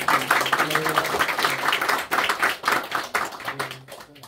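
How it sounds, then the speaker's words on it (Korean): A church congregation claps together during a Sunday morning service, a brisk burst of many hands clapping in a loose rhythm, close and lively, lasting a few seconds. "우리 힘내시라고 박수 한번 드립니다."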